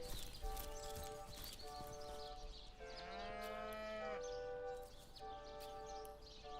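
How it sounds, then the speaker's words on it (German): A single drawn-out cow moo, about a second long, rises over soft sustained background music in Divinity: Original Sin - Enhanced Edition. "Eine Kuh. Die Kuh sagt Mu."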